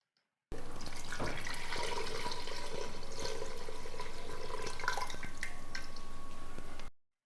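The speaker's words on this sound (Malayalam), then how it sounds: "ആവശ്യമായ വെള്ളം നമ്മൾ ഇതിനകത്തേക്ക് ഒഴിച്ചു കൊടുക്കാം" Water is poured steadily for about six seconds into a clay pot of ripe mango curry, a continuous close splashing and trickling with no talk.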